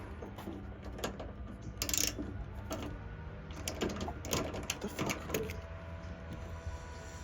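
Screw being hand-tightened on a Ford Maverick tailgate assist bracket, with soft clicks, scrapes and a few louder knocks spread through a quiet stretch.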